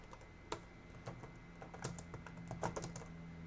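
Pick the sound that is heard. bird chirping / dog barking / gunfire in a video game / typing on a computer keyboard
typing on a computer keyboard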